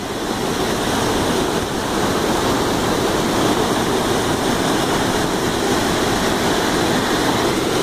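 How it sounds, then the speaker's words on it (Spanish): Waterfall in Patagonia near Fitz Roy, pouring as a steady, loud, broadband roar of rushing water that holds unbroken throughout, with no voices. "bien está esta cascada que hay acá"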